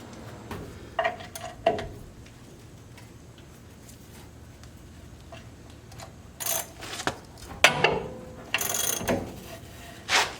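Ratchet wrench working bolts loose on the front end of a 1939 Ford, heard as a few short bursts of clicking spread through the clip and separated by quiet stretches, fairly close by.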